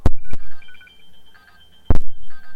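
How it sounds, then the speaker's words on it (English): A telephone rings with an incoming call during a live radio-style talk show, giving two short bursts of ringing separated by a pause, loud and close, with no talking over it. "We got a phone call."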